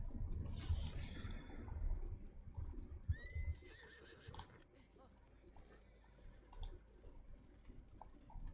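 A horse in a video game gives a brief, high whinny partway through, set against quiet game ambience and soft keyboard clicks at a low overall level.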